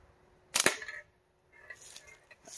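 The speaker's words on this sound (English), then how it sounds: "I'm going to attempt to shoot this slingshot at this can over my shoulder here" A slingshot shot at a can: one sharp, loud crack near the start, then a brief ringing tail, a gap, and faint rustling movement after.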